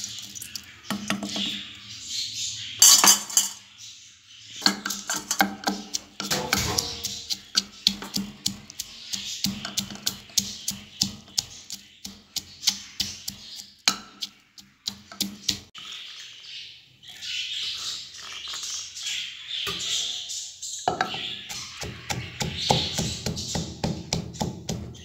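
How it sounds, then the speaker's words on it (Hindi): Peas and green chilies are pounded in a mortar, with repeated sharp close knocks in irregular rapid runs broken by short pauses and occasional scraping. "ये देखें जी, मिर्चों को और मैंने मटर को कूट लिया"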